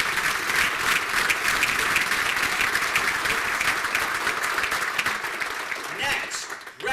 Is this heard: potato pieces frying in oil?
no